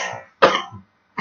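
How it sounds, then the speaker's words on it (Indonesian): Two harsh coughs from one person, close and loud, separated by a short pause, with a third beginning at the end. "mengganggu sekali batuk ya"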